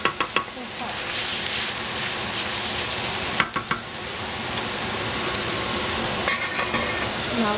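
Eggplant frying in a hot pan, a steady, dense sizzle throughout, broken by a few sharp clinks of a utensil against the pan.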